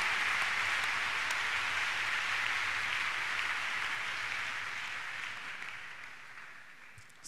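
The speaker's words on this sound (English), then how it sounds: "Clap your hands unto God of the choosing now." Church congregation at a deliverance service clapping hands together in praise, a dense, steady crackle of many palms that holds for several seconds, then thins and fades slightly toward the end.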